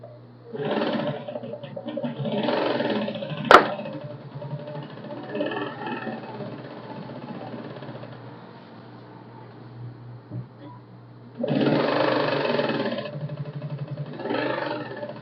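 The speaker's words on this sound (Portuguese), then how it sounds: "vai ser costurado em volta da tela toda agora" Sewing machine running in steady stretches while stitching around a mosquito net screen, a low motor whir that fades for a quiet middle stretch before picking up again, with a single sharp click partway through.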